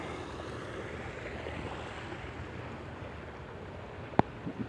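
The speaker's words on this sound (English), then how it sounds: "It's not a natural waterfall. It's obviously fed by a hose or something like that." Steady broadband rush of water from a small pump-fed artificial waterfall outdoors, even and continuous with a faint breezy quality, then a sharp click near the end.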